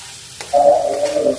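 Tomato paste and chillies hit a hot pan for a paneer curry, a sudden loud sizzle bursting in after a soft clink and hissing steadily for the final second.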